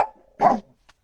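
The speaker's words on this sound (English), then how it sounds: "Who are you barking? Don't bark at Sunny, Fred." A dog named Fred barks once at close range, a short loud burst with a fainter yip before it and a tiny yelp after, otherwise quiet.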